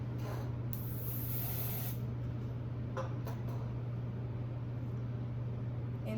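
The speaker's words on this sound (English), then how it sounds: "I'm gonna just start spraying this with my hairspray," A hiss of hairspray from an aerosol can, one short burst near the start over a steady low hum, sprayed while wrapping a braided ponytail.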